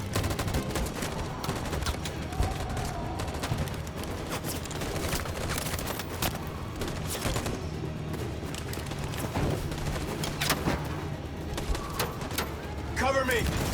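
Gunfire crackles in the video game Detroit: Become Human, with rapid sharp shots and bursts running throughout amid shouted voices and background game noise.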